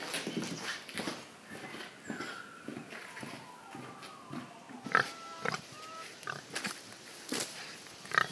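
Pigs on a free-range homestead grunt and snort at morning feeding time, giving short close sounds amid shuffling footsteps and rustling, with occasional sharper squeals.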